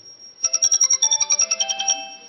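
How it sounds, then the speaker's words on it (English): A home robot's fire-alarm buzzer sounds a rapid series of about fifteen bright, evenly pulsed electronic beeps over roughly a second and a half, close and clear in a quiet room. "A buzzer"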